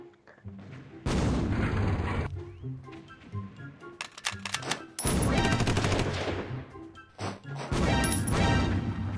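Roblox combat with units auto-attacking, rapid bursts of gunfire and crashing impacts that come in loud waves with short quieter gaps between them, and no talk.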